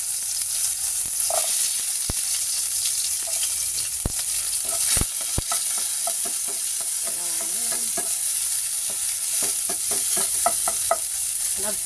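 Onion and garlic sizzle in hot oil in a pan while cooking chicken liver and gizzard adobo, a constant bright hiss with scattered pops and occasional utensil taps, close up and with no talking.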